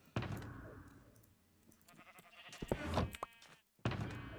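Sheep bleat on a Minecraft sheep farm in an open survival world, with several short game-style bleats at a moderate distance and a few soft thuds between them.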